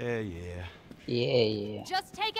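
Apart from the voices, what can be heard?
No distinct noise like a dog, phone or traffic.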